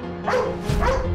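A dog barks twice in quick succession, close by, with a short gap between the two barks.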